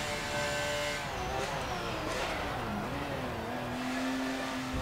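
A race car engine in the game Forza Motorsport 7 roars steadily at high revs, its pitch dropping through downshifts as it slows, loud and close throughout.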